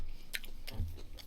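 Grilled pork belly and duck are chewed up close during a mukbang, soft wet bites and crunches coming in a few quick irregular bursts over a quiet background.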